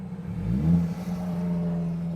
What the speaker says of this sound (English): Motorbike went past.